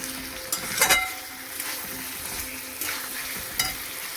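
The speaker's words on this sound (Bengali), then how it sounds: "সবজি তেল ছেড়ে দিয়েছে, এবার আমি জল দিয়ে দিচ্ছি।" Frying vegetables in a pan sizzle steadily, with bursts of louder spattering hiss and a few clattering stirs, as water goes into the hot oil.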